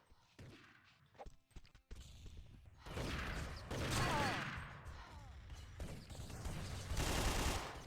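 Gunfire and grenade blasts in a capture-the-flag match of an online shooter, USA versus Belgium: dense bursts of weapon fire and explosive thuds, with a short stretch of sporadic shots and a commentator's voice at the start.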